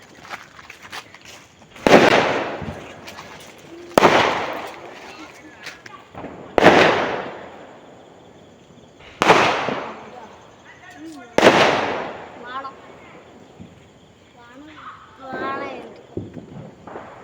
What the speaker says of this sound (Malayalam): റംസുക്ക് രാത്രി ഇവിടുന്ന് പടക്കം പൊട്ടുന്നതൊക്കെ കേൾക്കുമ്പോൾ പേടിയാവണ്ട കേട്ടോ